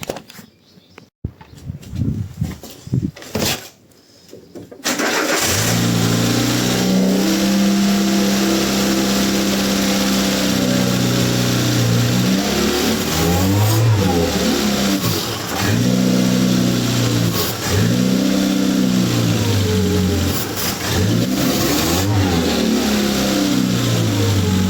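A Peugeot 106 XSi engine revs hard under acceleration, a loud, steady mechanical roar with repeated rises and dips in pitch, running continuously after a few seconds of quieter handling noise at the start.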